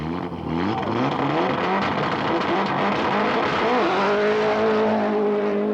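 Rally cars compete on a stage of the 1999 Circuit of Ireland near Tallaght, engines revving and rising in pitch as they accelerate, with loud continuous engine noise and faint tyre sounds.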